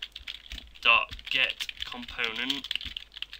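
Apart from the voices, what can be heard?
typing code on a computer keyboard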